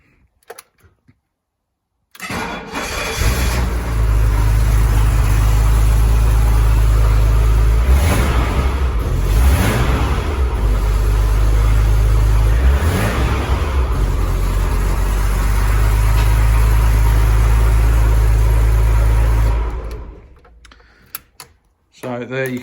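A 1985 BMW 525e E28, a turbo project car said to run poorly, cranks and fires, then settles into a loud, steady engine running close by for about eighteen seconds before cutting off.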